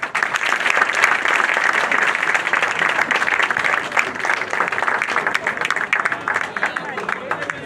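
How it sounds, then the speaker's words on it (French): Dense audience applause at a formal ceremony honouring an invited dignitary, a loud sustained wash of many hands clapping with crowd murmur mixed in, fading slightly toward the end. "Sous vos applaudissements."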